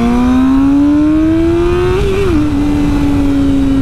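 A Yamaha R6 600cc sport bike ridden at steady speed, its engine a loud, close, sustained high-pitched drone that rises smoothly with a brief wobble of throttle before settling at an even pitch.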